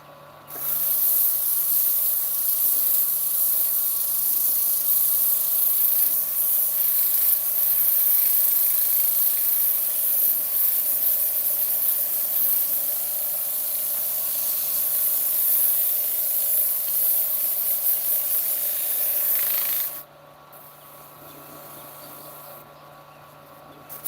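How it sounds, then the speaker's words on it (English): A sanding pad works steadily over wood, giving a continuous close hiss that runs without pause for about twenty seconds, then stops abruptly, leaving a quieter hum. "Sanding pad's getting warm."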